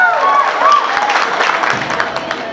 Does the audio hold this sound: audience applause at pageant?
yes